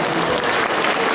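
Dense applause from a crowd at a cosplay contest, a brief steady burst of clapping filling the whole moment.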